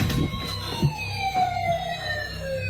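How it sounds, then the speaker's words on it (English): A siren wails with a slowly falling tone, fairly faint and distant, with some scattered knocks and background noise. "The sirens?"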